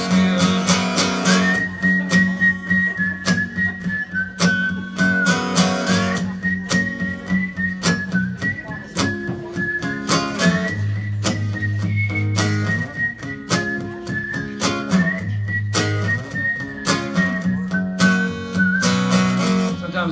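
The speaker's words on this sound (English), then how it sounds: "Sometimes I have to whistle solos because I don't have a harmonica that's in the same key as the song." A lone person whistles a melodic solo in place of a harmonica, clear and close, with sustained and sliding notes over a steady strummed guitar accompaniment.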